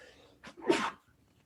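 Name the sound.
a person sneezing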